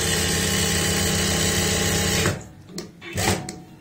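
Electric sewing machine stitching a blouse lining to the main fabric, a loud steady close whir for a couple of seconds that then stops, followed by a few short start-stop bursts.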